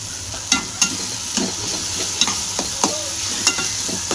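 A spoon stirs eggplant bharit with fresh coriander in a hot pan, scraping and knocking against the metal in irregular strokes over a soft, continuous sizzle, close up.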